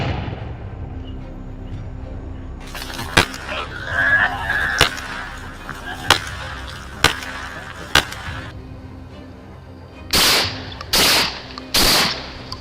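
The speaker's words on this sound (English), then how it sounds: "A deafening gunshot tore through the silence." Gunshots ring out during a wild boar hunt: several sharp single cracks spaced about a second apart, then three louder, longer blasts near the end over a low outdoor rumble.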